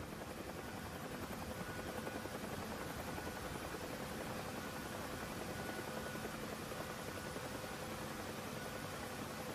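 A helicopter engine and rotor in a flight simulator video game drone steadily for several seconds, a dense continuous roar with no voices.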